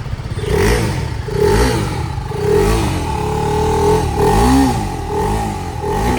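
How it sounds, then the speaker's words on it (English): TVS Apache RR310 Limited Edition sport motorcycle revving, about five or six rising and falling throttle blips in quick succession, close and fairly loud, with no voices. "when you rev that engine"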